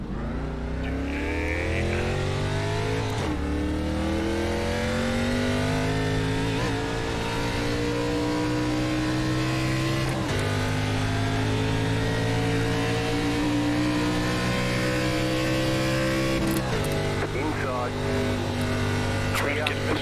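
A simulated ARCA Series race car engine accelerating at Indianapolis Motor Speedway in iRacing, droning steadily with rising revs and brief dips at gear changes, loud and continuous under someone talking.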